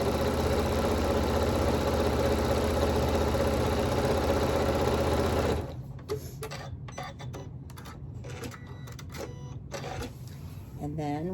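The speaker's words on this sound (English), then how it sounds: "I'm going to start on my lead again, and I'm going to sew 1/2 inch" A sewing machine sews a half-inch seam on a quilted rag bag, humming steadily and loudly for about five seconds before stopping, followed by a person talking over faint clicks and handling.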